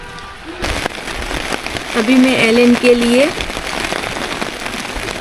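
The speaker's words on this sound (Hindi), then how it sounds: "तो इस तरफ बारिश आ रही है ना, तो इस तरफ टार्प लगा दिया है।" Rain pattering on a tarp rigged beside a campervan at a hill station, a steady hiss of drops under someone speaking, with some background tones mid-clip.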